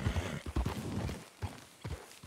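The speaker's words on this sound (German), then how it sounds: "Das ist ein schönes Pferd." A horse in Red Dead Redemption 2 walks with hollow clip-clop hoofbeats, about six uneven steps in two seconds, close and fairly quiet.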